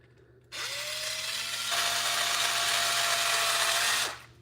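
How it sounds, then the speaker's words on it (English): Small power drill running steadily for about three and a half seconds, tightening a hose clamp during a truck thermostat repair; a close, continuous whine that rises slightly in pitch partway through, then stops. "I'm going to take my little drill"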